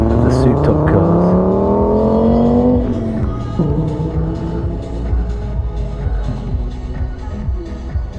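Modified cars at a crowded car meet rev their engines, a loud rising roar that drops off and settles into rumbling idle and revs, with people talking nearby.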